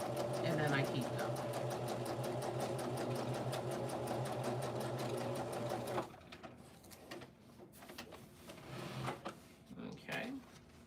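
A sewing machine stitching a quilt runs in a fast, even mechanical chatter for about six seconds, then stops, leaving quieter handling clicks and rustles while someone talks.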